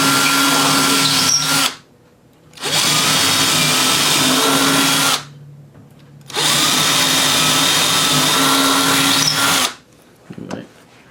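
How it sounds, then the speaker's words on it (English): A power drill with a 15/64 bit bores out a door hinge in three long, steady bursts of loud whirring, separated by brief pauses, ending with light handling clatter. "let's drill these out."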